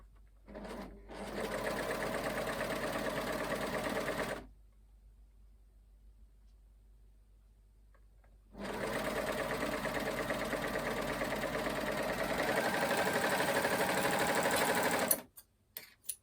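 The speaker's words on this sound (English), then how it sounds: "stitch them together." A sewing machine runs close by, stitching the shoulder seams of a homemade top, in two long steady bursts separated by a pause of several seconds, with no talk over it.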